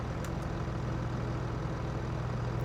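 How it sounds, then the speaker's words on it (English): A tractor engine in Farming Simulator 22 runs at a steady low idle, a constant deep rumble with a faint hum and no clear start-up burst. "start up the tractor"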